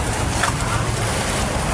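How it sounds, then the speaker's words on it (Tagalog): A fishing boat engine running at sea, a steady low drone mixed with wind and water rush, heard close and constant throughout the short stretch. "Nagpandar na si Kapitan Nunoy ng makina."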